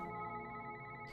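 A throbbing electronic phone ring inside a video game, a steady pulsing tone held loud and close for about a second with no talk over it.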